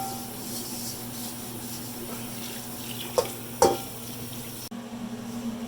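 Running tap water pours steadily into a sink as a steel wok is washed, a continuous close hiss with a couple of brief clanks and splashes partway through before the flow shifts.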